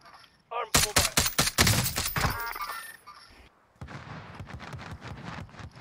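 In the Call of Duty Warzone video game, rapid bursts of gunfire crack in close succession for a couple of seconds, then give way to quieter, busy background noise.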